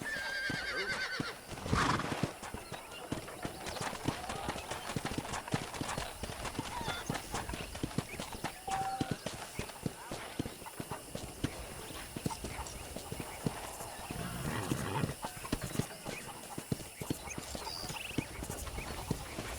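Video game horse: continuous clip-clop of hooves at a steady walking rhythm around a ranch in Red Dead Redemption, with a clear whinny early on and faint talk underneath.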